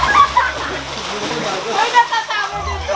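Water splashing from a butterfly stroke in a small backyard swimming pool, bursts of splatter and sloshing repeating through the clip, with people shouting and laughing nearby.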